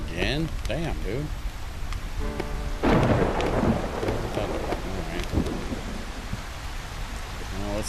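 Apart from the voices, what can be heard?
rain and thunder, from video game Solar Punk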